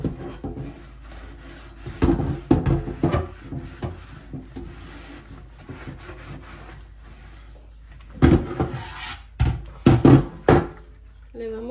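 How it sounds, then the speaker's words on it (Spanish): A stove top being scrubbed clean by hand, bursts of close rough rubbing and knocks in uneven strokes, heaviest early on and again near the end, with a voice speaking between and over them. "Le vamos a tallar aquí arriba."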